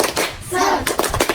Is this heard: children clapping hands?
yes